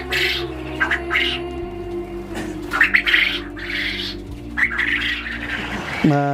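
Many quails call continuously on a farm, a dense mix of chirps, squawks and clucking chatter close by, with a faint low hum underneath.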